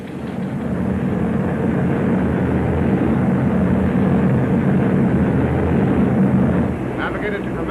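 A formation of heavy bomber aircraft drones overhead, a loud, continuous, low rumbling roar that holds steady throughout, with a faint radio-like voice present toward the end.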